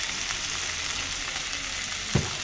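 Onions frying in a pan while meat is cooked, a steady close sizzle, with a brief louder clatter near the end as tomato goes in.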